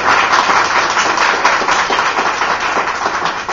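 A graduation ceremony audience at a beauty academy claps together in a dense, steady burst of applause, bright and close, without voices over it.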